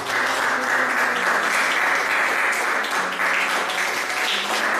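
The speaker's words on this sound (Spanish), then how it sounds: "Alguien que le dé un aplauso a Dios esta tarde por la palabra de Dios." A church congregation applauds in a sustained, dense wave of clapping that stays loud and even for several seconds, with faint voices mixed in beneath it.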